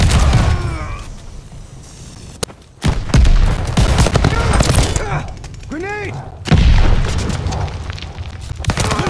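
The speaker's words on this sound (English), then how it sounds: "Grenade!" A grenade explodes in Call of Duty Vanguard amid heavy in-game gunfire, with loud booming blasts and rattling shots. Game characters shout throughout the chaotic battle.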